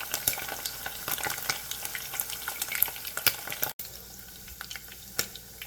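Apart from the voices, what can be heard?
sausage links frying in a pan, turned with tongs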